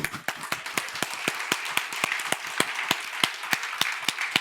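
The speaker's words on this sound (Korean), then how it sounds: "박수." A church congregation claps together in a steady, even rhythm, many hands beating in time for several seconds with no talking.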